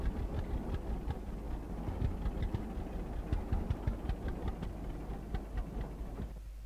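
A tractor engine idles on a farm in the game Farmers Dynasty, a steady low rumbling chug with faint rhythmic ticking over it, close and even throughout.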